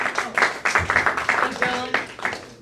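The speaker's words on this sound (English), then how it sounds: "Clap it up for Johnny Budd, everybody." An open mic crowd at a small gallery venue claps in scattered, uneven bursts, close and moderately loud, with some talk mixed in.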